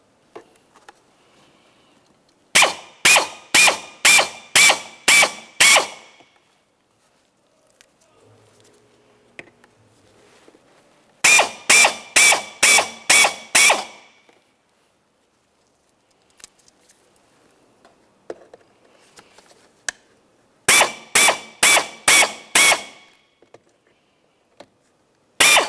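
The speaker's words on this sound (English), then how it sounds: "we can continue on with removing some of our rivets" Rivets being removed from the glove box of a 2000-2006 Chevrolet Tahoe with a power tool, heard as three close bursts of about six sharp rapid clicks each, separated by quiet pauses with faint handling noise.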